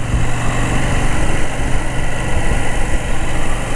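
Engine of a KTM 790 Adventure motorcycle running steadily nearby, a continuous loud rumble with an even throb and no voices.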